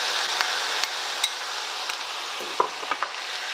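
Mushrooms cook in a pan with sauce just added, a soft steady sizzle punctuated by light clicks and taps of a utensil against the pan.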